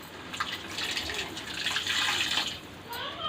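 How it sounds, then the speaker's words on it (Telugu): Water pours steadily into a pot of Nellore pakeela pulusu curry with tomato and tamarind, a continuous close splashing rush lasting a few seconds. "ఇంకా తగినన్ని వాటర్ వేసుకోవాలి"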